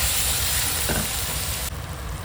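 Cumin and other spices sizzle steadily in hot oil, a constant bright hiss with a brief stirring scrape partway through.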